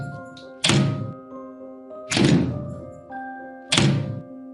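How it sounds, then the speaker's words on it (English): Three loud, heavy bangs echo through the halls of the Amityville house in New York, spaced about a second and a half apart, each a booming thud with a ringing tail over a low sustained drone, with no voices. "Loud, unexplained banging would echo through the halls"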